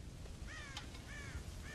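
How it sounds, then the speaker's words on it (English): Crows caw several times in Red Dead Redemption, a few harsh calls repeated over faint ambient game background, quiet and moderately distant. "God damn crows!"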